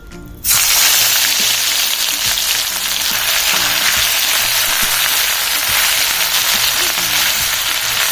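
Ginger-garlic paste hits hot oil and erupts into a loud, steady, close sizzle that starts abruptly and keeps crackling evenly throughout, with no voices.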